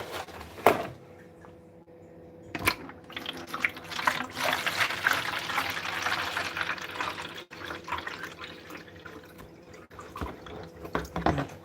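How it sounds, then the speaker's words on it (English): A water bottle fills from a running tap indoors, a gurgling, splashing stream with shifting pitch over several seconds, framed by clunks and handling knocks, fairly faint and close. "Let me fill this water bottle up real quick."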